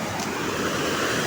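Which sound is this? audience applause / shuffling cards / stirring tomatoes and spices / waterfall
waterfall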